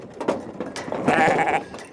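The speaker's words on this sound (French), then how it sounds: "Ces moutons de bruyère, race en voie de disparition, disposent de près de 4 hectares de pelouse tout autour de l'enceinte de la prison." Heath sheep, an endangered breed grazing the grassland around a prison enclosure, bleat in a few short calls with one longer, louder bleat near the middle, close by and without talk.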